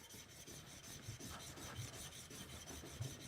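The back of a chisel is rubbed on a fine grit DMT diamond sharpening plate, a soft steady rasping scrape with gentle repeated strokes, close and quiet, without talk.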